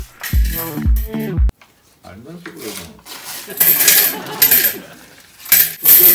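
Metal coins clatter and ring as they are tipped and flipped onto an old upturned cast-iron cauldron lid, a close, loud run of jingling impacts followed by scraping and rattling as the coins are stirred about.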